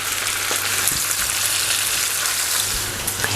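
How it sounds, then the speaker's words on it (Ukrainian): Bell peppers sizzle and crackle steadily in a hot pan, a constant frying hiss with occasional small pops, close by. "додаю чорний мелений перець та трішки тим'яну і обсмажую приблизно 15 хвилин."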